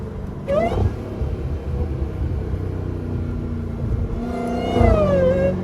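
A Dodge Hellcat engine rumbles loud and deep while driving, a heavy continuous drone that swells with throttle near the start and again toward the end.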